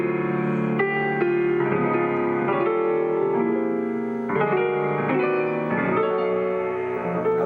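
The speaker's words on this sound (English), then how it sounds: "Now this means that ultimately Fair Harvard can sound like this." Fair Harvard played in a loose, freely chromatic style, likely on piano: sustained harmonic chords that shift steadily in a continuous passage at moderate loudness, with no voices.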